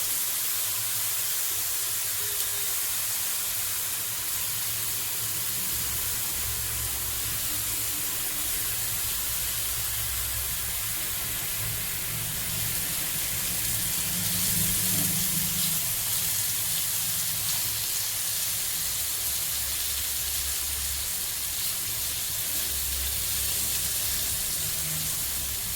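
Raw banana slices fry in a pan over a low flame, giving a steady, soft, continuous hiss and spatter that runs unbroken and fairly quiet with no talking.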